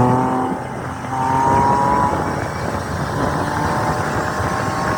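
The engine of a 1966 Land Rover Series 2A accelerates loudly and close, its rising whine climbing in pitch and then settling into a steady, rough drone, with no voices.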